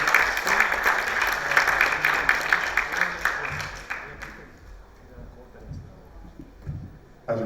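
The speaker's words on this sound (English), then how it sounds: "Nick, please give Nick a round of applause." Audience at a keynote applauds a speaker, a dense burst of clapping for about four seconds that then drops away into quieter room noise with murmuring voices and a few scattered claps.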